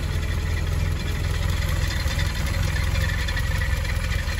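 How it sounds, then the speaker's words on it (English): A 1966 Triumph Herald 12/50 engine idles after a fuel pump replacement, a steady low rumbling hum that stays even and close throughout with no talking. "I've got the engine running"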